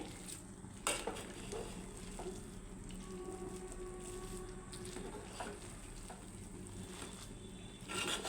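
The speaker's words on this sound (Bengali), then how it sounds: "এখন সুন্দরভাবে নাড়াচাড়া করে দেব" A spoon stirring beef kofta vegetable khichuri in a pot, a quiet background sizzle with occasional scrapes and clinks of utensil against the pot, one sharper knock near the start, no talking.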